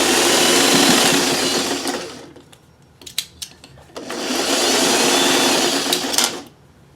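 A sewing machine stitching fabric seams whirs loudly in two sustained runs of a few seconds each, separated by a quiet pause with small clicks and handling noises.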